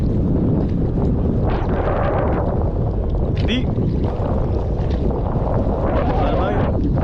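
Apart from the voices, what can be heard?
strong wind blowing on a fishing boat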